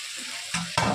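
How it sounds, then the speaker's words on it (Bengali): Potato and eggplant sautéed in a pan for a fish curry, a short burst of sizzling with two sharper stirring scrapes as the pieces are turned, no talking. "এখন আলু আর বেগুনটা দিয়ে আরও ভালো মতো কষিয়ে নেব"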